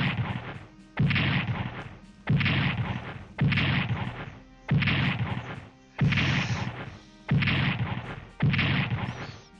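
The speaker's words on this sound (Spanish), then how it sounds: "Empiezas a oír explosiones y te acojonas vivo." A series of heavy, booming explosions in the World War II strategy video game Strategic Command, about eight in a row at regular intervals, each one loud and then decaying, with no voices.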